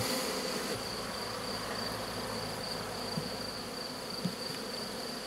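Honeybees buzzing around an open Layens hive, a steady, dense hum of many insects close by, continuous throughout.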